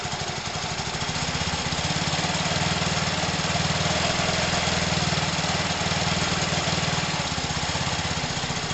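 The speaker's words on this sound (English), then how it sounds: "listen carefully, I'm going to rev it a little bit" Engine revved a little to check the regulator output, a loud close steady drone with a rapid low throb that rises slightly in the middle and then settles, no speech.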